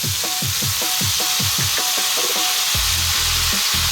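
Soy sauce hits a hot pan of Chinese five-spice pork belly and sizzles with a steady, loud crackle, alongside a rhythmic pulsing pattern in the background.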